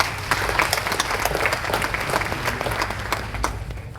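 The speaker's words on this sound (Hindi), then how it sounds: "तो ताली बजाते एक बार।" An audience at a business conclave for wealth-management partners claps, sustained applause filling the hall with dense, continuous clapping from a large crowd throughout.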